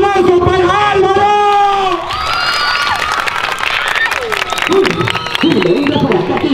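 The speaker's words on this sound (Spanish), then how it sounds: "¡Aplauso para Álvaro!" A street comedy audience claps and cheers for comedian Álvaro, whoops and shouts rising over excited voices, loud and close, with talking throughout.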